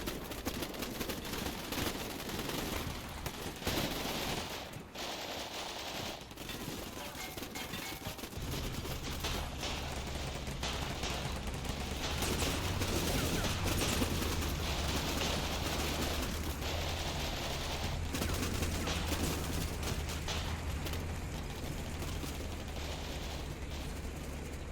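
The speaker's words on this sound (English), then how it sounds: "Our infantry reaches the hospital with all guns blazing." Infantry gunfire in the Combat Mission Black Sea video game, dense rattling machine-gun bursts and scattered shots mixed with rumbling battle noise, continuous and fairly loud throughout.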